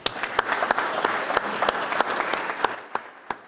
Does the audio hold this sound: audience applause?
yes